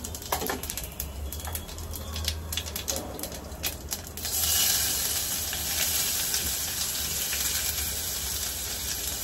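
Spices and cumin seeds dropped into hot oil for a dum aloo gravy. Scattered crackles and ticks lead into a loud, steady sizzle that swells and holds, close up with no talking.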